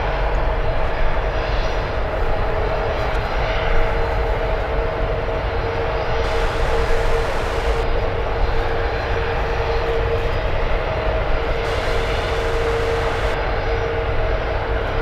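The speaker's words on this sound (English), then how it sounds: "A380 is taxiing on the runway" An Airbus A380 taxis along the runway at San Francisco airport, its engines giving a steady, continuous jet roar with a faint tonal whine, holding even loudness throughout without speech.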